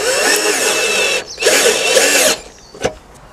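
Power drill driving screws into a roof-top cover plate, two close whirring bursts with a brief pause between them, followed by a sharp click.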